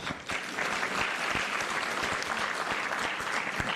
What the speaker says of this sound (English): Ladies and gentlemen, that deserves a hand clap.